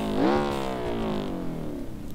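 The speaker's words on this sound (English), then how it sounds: "I don't know how they can make a four-cylinder engine sound this good." A four-cylinder car engine in the driving game BeamNG.drive revs up sharply, then slowly winds down in pitch over about two seconds, loud and alone.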